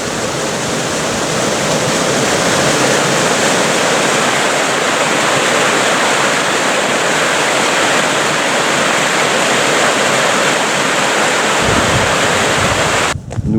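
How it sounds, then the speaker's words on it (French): A small waterfall in a ravine pours continuously, a broad dense roar with wind mixed in, close and loud throughout before cutting off abruptly at the end. "Avec une belle petite cascade."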